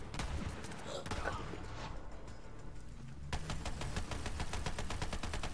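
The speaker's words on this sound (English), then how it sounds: "I have a Gatling gun." A Gatling gun fires in Borderlands 3 gameplay, with dense, rapid bursts of automatic gunfire that grow into a steady fast rattle, mixed with game noise and some talk.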